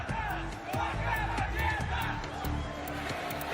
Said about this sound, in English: The roar of the crowd and the tension play their part.